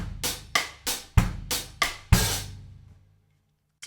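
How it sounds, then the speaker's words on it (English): A short drum groove played with the shoulder of the stick accenting the upbeats on the hi-hat, with several crisp hits and two heavier kick-and-snare accents, close and clear, fading out at the end. "If I start accenting with the shoulder of the stick on the upbeats, you get this."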